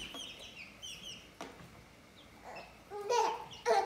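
A baby chick clucks and cheeps in short bright bursts, with a few scattered calls early on and a louder cluster of chirps near the end, close and fairly faint, alone without talk.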